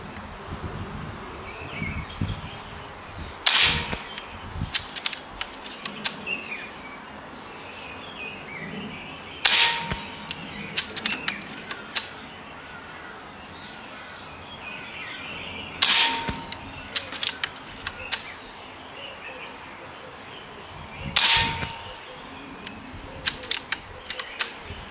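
A Seneca Eagle Claw .25 caliber air rifle firing HN 36-grain hollow-point slugs, four sharp cracks evenly spaced about six seconds apart over faint outdoor insect buzz, each followed by brief clattering.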